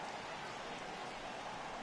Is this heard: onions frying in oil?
no